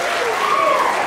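Applause fills a festival tent at a German Schützenfest after a band and drum corps march in, a dense, steady clapping from a crowd with no distinct voices.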